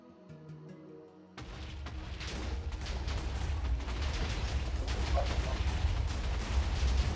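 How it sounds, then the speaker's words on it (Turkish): An explosion in a video game bursts in after a quiet opening, leaving a loud, sustained broadband rumble of blast and debris that stays dense and heavy to the end. "Patladı."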